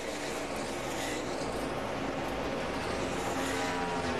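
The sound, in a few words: NASCAR Nationwide Series race cars at Lowe's Motor Speedway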